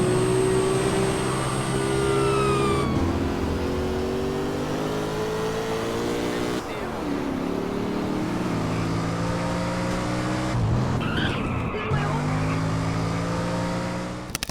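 Engine and tire sounds ported from a newer game into modded GTA San Andreas, a car engine revving up through several gears with pitch rising and dropping at each shift, steady and close with faint tire noise.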